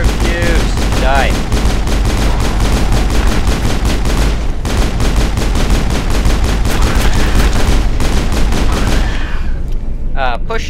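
Rapid, dense gunfire in the video game Mass Effect, sustained automatic bursts and booms that pound continuously and loudly, with a brief lull midway and faint voices underneath.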